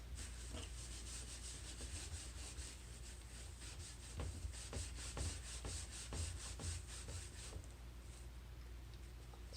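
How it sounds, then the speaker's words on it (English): A small spatula scrapes residue off a Brother ScanNCut cutting mat, giving a steady close rasping with repeated short strokes, fairly quiet and with no talk. "I'm going to try and scrape it off with my little spatula"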